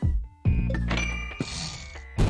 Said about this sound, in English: Also, the familiar bell is back.